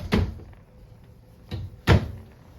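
Three wooden cabinet doors in a 2022 Arctic Wolf 291RL RV knock open in quick succession, sharp close thuds separated by short quiet gaps.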